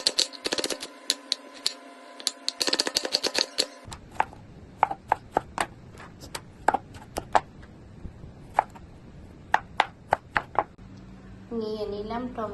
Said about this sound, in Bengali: এখন দুটো পেঁয়াজ আর দুটো টমেটো কেটে নিচ্ছি।